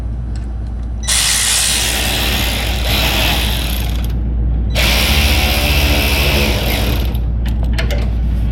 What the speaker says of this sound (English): get this tightened down.